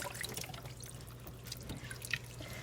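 Broth poured into a pot for chicken taco soup, a faint liquid trickling and dripping sound, continuous and quiet, close by.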